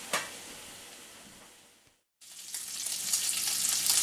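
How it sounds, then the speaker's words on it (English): Steady crackling sizzle of bacon frying in a hot cast iron skillet, briefly cutting out before returning louder and brighter, with no talking. "now we are frying bacon"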